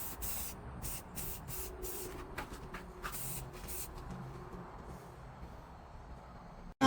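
Rust-Oleum Rusty Metal Primer sprays from an aerosol can onto a small corrugated metal roof made from soda cans, in a series of short, close hissing bursts followed by one longer, fainter spray.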